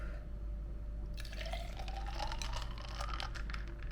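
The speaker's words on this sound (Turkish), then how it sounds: "Kahvemizi döktük." Two shots of espresso diluted with a little cold water are poured into a glass of ice, giving a soft trickle followed by light clinks and crackles of the cubes, close and quiet with no talking.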